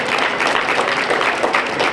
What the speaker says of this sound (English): Could everyone give our junior showmen a round of applause